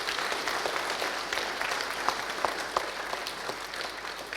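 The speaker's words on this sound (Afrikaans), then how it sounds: "Kom ons gee sommer net vir die ouers 'n hande klap." A church congregation claps for the parents, a moderately distant, even wash of applause from many hands, with a few sharper claps standing out as it carries on.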